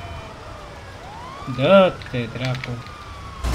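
A police siren wails in the GTA V Online video game, a sweeping electronic tone that swells mid-clip while someone talks over it and other game noise runs underneath.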